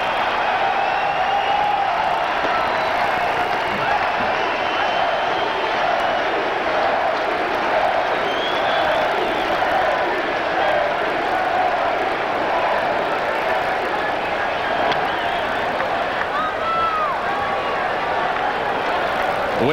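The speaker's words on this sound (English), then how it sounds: "The crowd wants the curtain call." A packed Wrigley Field crowd roars for Sammy Sosa's home run in a 1998 Cubs game against the Phillies, a dense, steady cheer that holds for twenty seconds without letting up.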